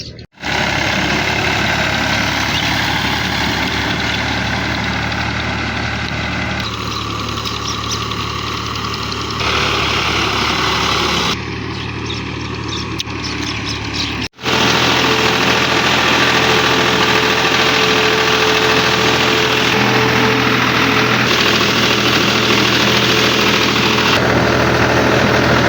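A tractor engine idling in a farm field, loud and steady with a low rumbling throb that cuts out briefly and then resumes, with no talking.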